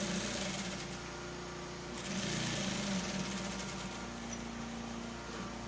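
A sewing machine runs quietly and steadily while top stitching the pocket of an Ankara-print trouser, its faint mechanical whir rising a little in the middle of the stretch.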